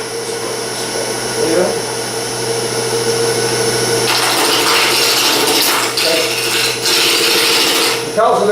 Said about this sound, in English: the lathe is turning